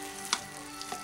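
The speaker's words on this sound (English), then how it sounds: "Let's reach down in there and stir this around." A stew with potatoes sizzles in a pot as it is stirred, a steady close frying hiss with a few soft scraping knocks, and no talking.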